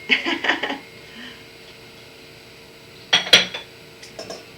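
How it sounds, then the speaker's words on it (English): Chopped onions and celery tipped into a mixing bowl for a fresh dill potato salad in a home kitchen, giving a couple of short clattering knocks against the bowl and then a second louder burst a few seconds later. "I'm going to take this bowl, and I'm going to dump in my onions, my celery"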